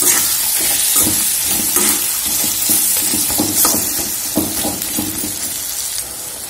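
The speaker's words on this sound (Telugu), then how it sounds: "కర్రీ ఇప్పుడు ఇలా ఉడుకుతుంది కదా" Bitter gourd curry with tomato cooking in a pan, a close steady sizzle and bubbling with soft stirring clinks and scrapes throughout, no voices.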